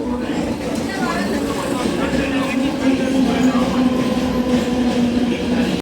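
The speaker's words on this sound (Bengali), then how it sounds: "তো ট্রেন চলে এসছে আমরা এবার লোকাল ট্রেনে উঠে যাব" Loud, continuous rumble and screech of a Mumbai local train rolling into the station, with steady rail noise and a rising metallic whine throughout.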